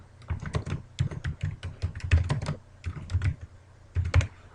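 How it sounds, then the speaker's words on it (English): Rapid bursts of keystrokes on a computer keyboard, close and clear, coming in quick irregular runs with brief pauses between them and no voice over the clicking. "and start typing"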